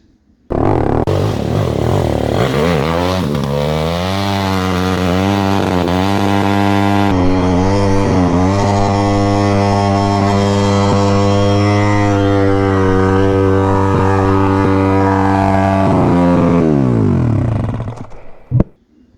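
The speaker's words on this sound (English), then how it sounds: "this is just a quick clip of the last scene of the bike running properly" A 170 Detroit motorcycle running at a private circuit, its engine revving up and holding at a loud, steady high pitch for about fifteen seconds before cutting off abruptly, close by with no voices.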